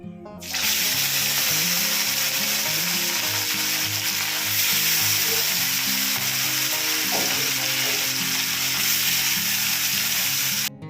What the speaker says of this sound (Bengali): হালকা করে কিন্তু মাছটা ভাজবো